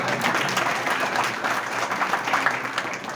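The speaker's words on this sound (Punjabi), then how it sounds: "ਤਾੜੀਆਂ ਥੋੜੀਆਂ ਮਾਰ ਦਿਆ ਕਰੋ" A crowd at an election campaign rally in Punjab claps steadily, a dense, loud burst of applause filling the whole stretch without letting up.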